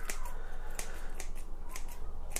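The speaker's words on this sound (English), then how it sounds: "It's gonna be a longer root there, so I'll just snip that off." Scissors snipping the roots of a wired Japanese black pine bonsai during repotting, a few quiet, crisp cuts spaced apart over a soft background.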